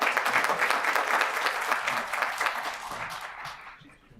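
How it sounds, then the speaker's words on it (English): Applause at a town council meeting for an award recipient, a steady round of clapping from the room that gradually thins and fades out toward the end. "Another round of applause for our recipient."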